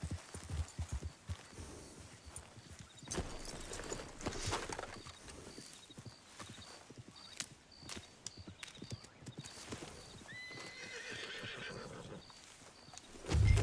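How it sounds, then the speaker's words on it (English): Horse hooves clip-clop steadily in a Red Dead Redemption II game scene as a secondary horse arrives, with a clear whinny midway and ambient game sounds throughout, no talk. "Oh, my secondary horse came."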